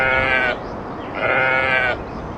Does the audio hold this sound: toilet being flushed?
no